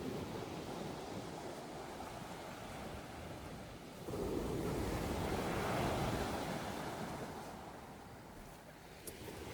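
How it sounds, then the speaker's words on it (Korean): Strong ocean surf rolls and crashes in a continuous roar on a beach at Pohang, swelling louder midway, with wind buffeting the microphone. "이 파도가 너무 세네요."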